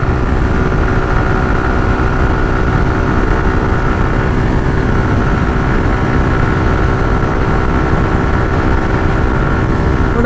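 A motorcycle accelerates from fifth gear on the road. The engine drones loudly and steadily under heavy wind rush, with no breaks in the sustained roar.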